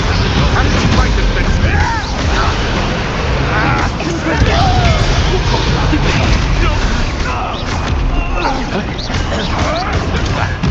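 Confringo spell blasts in the Hogwarts Legacy video game, heard as dense, loud crashes and booms in a chaotic duel, layered with battle noise, game music and shouting voices throughout.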